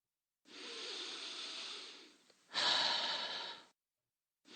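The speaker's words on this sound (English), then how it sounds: "Inhale deeply and slowly through your nose and exhale through your mouth." Slow, deep breathing, a long hissing inhale through the nose followed by a louder, fuller exhale through the mouth, then the start of another breath, close and alone without talking.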